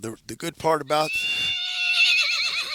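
A young horse whinnies loudly and close, a long quavering call with a wavering pitch that follows a few words from a person.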